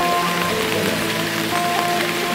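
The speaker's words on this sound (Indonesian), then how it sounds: "Kok hujan ya?" Steady rain falls during a night fishing trip, a dense, continuous patter spread evenly across the whole stretch with a faint tonal hum underneath and no voices.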